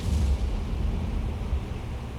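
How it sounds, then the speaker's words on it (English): A muffled, rumbling underwater explosion at sea in the naval submarine game Cold Waters: a deep low boom that swells and rolls on as a continuous roar, with no talk. "We got an explosion there around the vicinity of Romeo 1, I would think."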